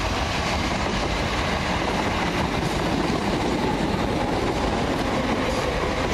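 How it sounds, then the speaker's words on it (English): A First Capital Connect passenger train on the Bedford to Brighton service passes through Preston Park station, a loud, steady roar of wheels and rails close by with faint clickety-clack throughout. "Comes the 1311 First Capital Connect service from Bedford to Brighton."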